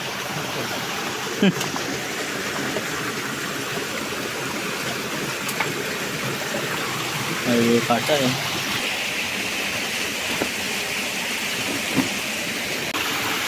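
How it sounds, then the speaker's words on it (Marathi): Steady roar of a waterfall in a dense forest, heard up close as a constant broadband rush of falling water, with a voice and a brief laugh over it. "बघा धबधबा आहे तो बघा"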